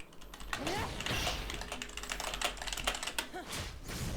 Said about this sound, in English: If you heard my keyboard there, I apologize.